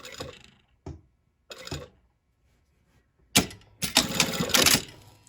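A sewing machine stitches along an already sewn line on a garment, short mechanical bursts with pauses at first, then a longer run of rapid rattling stitches near the end.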